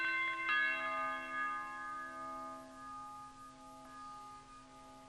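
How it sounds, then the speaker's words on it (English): A two-tone electronic chime rings out, its bright tones sustaining and slowly fading, then a softer second chime sounds near the end. "Is that the doorbell?"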